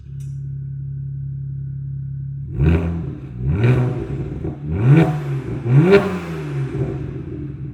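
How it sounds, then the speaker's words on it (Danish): BMW 1M Coupé with an aftermarket valved exhaust, idling with a steady low drone, then revved in four or five sharp, loud throttle blips that rise and fall back close by. "vi skal høre, hvordan den her spjæludstødning den lyder"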